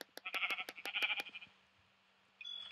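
Sheep in the Minecraft video game bleat in a quick run of repeated, clear calls, then fall quiet before one more bleat starts at the end.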